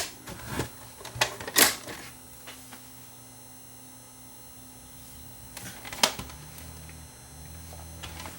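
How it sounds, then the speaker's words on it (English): A cassette loads into a vintage Panasonic PV420D camcorder with a direct-drive capstan motor and belt-driven spools: a few sharp mechanical clicks and clunks, a quiet stretch with a low motor hum, then another firm clunk as the tape seats. "We'll load a cassette."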